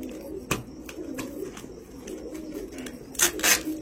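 Pigeons sent from Andhra (Guntur) coo quietly in a low, steady murmur, broken by a few sharp clicks and handling noises, with a louder rustle near the end.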